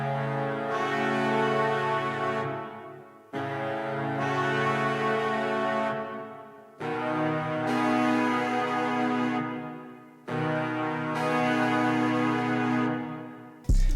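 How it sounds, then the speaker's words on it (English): Sampled horn section from the Session Horns Pro library playing four long sustained brass chords, each swelling in and fading, two alternating chords repeated in a slow, steady pattern with nothing else over them. "the first thing I started with was these horns from a contact library called Session Horns"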